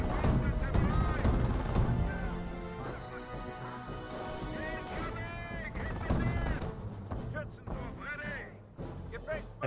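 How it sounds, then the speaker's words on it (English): Rifle gunfire in the strategy game Company of Heroes, scattered cracks and bursts mixed with distant heavier blasts during a battle, under a continuous commentator voice. "Rifle squad taking more and more shots."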